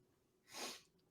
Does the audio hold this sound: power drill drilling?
no